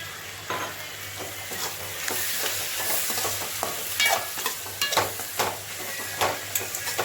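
Egg noodles are stirred with tomato sauce in a hot pan, giving a steady sizzle broken by repeated scraping and clinking strokes of a utensil against the pan, close up, with no talk.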